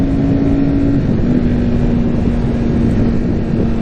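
A 2021 Ducati Streetfighter V4S motorcycle fitted with an Akrapovic exhaust, its engine giving a loud, steady, close throaty drone with a sustained low tone and no speech.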